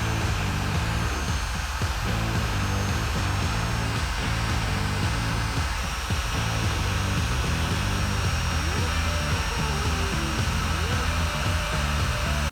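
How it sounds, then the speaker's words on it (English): A heat gun blows a steady, loud whoosh with a constant motor hum while shrinking red heat-shrink sleeves onto wiring during a camper van electrical install. "This one's going to be a positive one, so we're heat shrinking some red sleeves on it"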